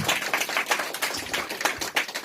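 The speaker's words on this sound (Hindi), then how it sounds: "या आप ताली बजा सकते हैं" A church congregation claps during a worship service, steady, quick, fairly close handclaps with an uneven rhythm and no voices over them.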